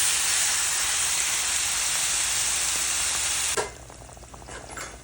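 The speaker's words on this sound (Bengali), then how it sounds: "শাকগুলো ছেড়ে দিলাম রসুন পেঁয়াজের মধ্যে" Leafy greens sizzle loudly in hot oil with browned garlic and onion, a steady hiss of frying that stops abruptly after a few seconds. Quieter kitchen clatter follows.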